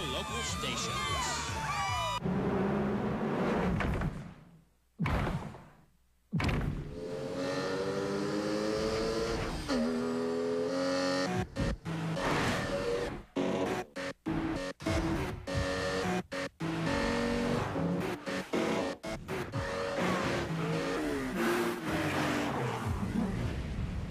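A Porsche Boxster sports car in a TV advert revs and accelerates loudly, its engine surging and dropping in sharp cuts, with spoken voices and crowd-like sound mixed in.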